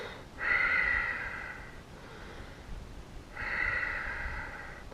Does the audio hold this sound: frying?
no